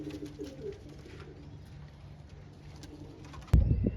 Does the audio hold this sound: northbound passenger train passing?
no